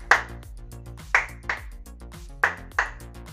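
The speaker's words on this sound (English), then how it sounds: "So basically you just clap to control your lights." Hands clap sharply several times to trigger a homemade clap switch for lights, the claps standing out clearly over a steady background of music.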